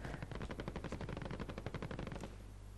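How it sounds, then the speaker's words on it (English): Rapid automatic gunfire from a Modern Warfare match, a dense, loud burst of fast repeated shots that runs for over two seconds and then cuts off, leaving only low background rumble. "they're all shooting down here, aren't they?"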